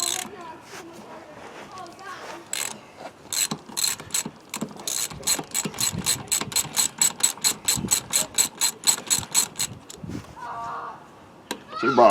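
Hand ratchet working the nuts on a Kubota BX22 hydraulic steering cylinder, a series of sharp rapid clicking bursts building into a fast regular ratcheting rhythm, close up, with some brief talk at the start.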